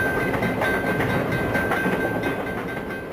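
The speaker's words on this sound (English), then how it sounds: "Graphic test footage of a staged crash demonstrates the deadly results of a train colliding" A rushing train rolls past in staged crash test footage with a bus, a loud continuous rumble with rail clatter and faint rhythmic clicks, steady throughout with no voices.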